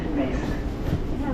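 A metro train in Munich rumbles along with a steady low roar, close and continuous, while people talk over it.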